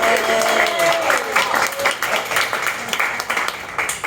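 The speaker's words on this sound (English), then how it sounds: "Let's have one more round of applause." An audience at a 100th birthday celebration claps in a loud, dense round of applause that carries on steadily to the end, with voices mixed in over it.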